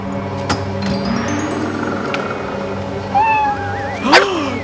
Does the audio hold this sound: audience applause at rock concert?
no